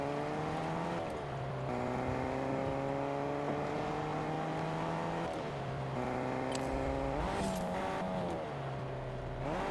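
Engine of a car driving in Fortnite, a steady buzzing drone that rises and falls with shifts in speed, loud and continuous throughout with no talking.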